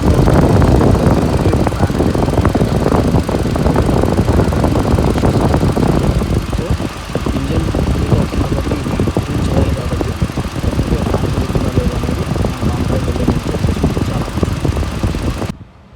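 A car engine idling with the air conditioning switched on, a loud, steady mechanical hum and rumble held close and continuous, easing slightly partway through before cutting off at the end.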